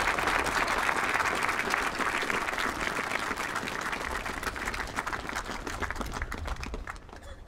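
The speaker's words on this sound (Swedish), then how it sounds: "ytterligare en applåd för det här fantastiska talet" Audience applause after a speech at a spring choir concert, a dense, sustained burst of many hands clapping that stays loud and then thins out toward the end.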